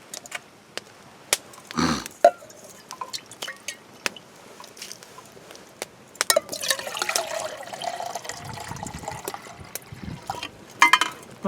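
Water from a canteen is poured into a big pot on a cold back step, with scattered drips and splashes early, then a fuller, louder pouring stretch in the second half.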